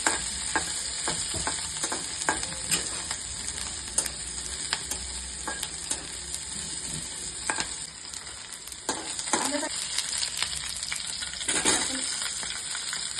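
Green chillies stirred and roasted in a pan, a continuous crackling sizzle with frequent sharp scrapes and clicks of a spoon against the pan, close and steady throughout.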